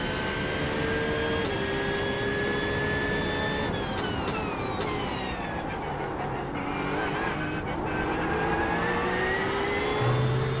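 Porsche 992 GT3R race car in iRacing at Zolder, its engine loud and close as it revs up through the gears, drops on a downshift midway, then climbs again, with no talk over it.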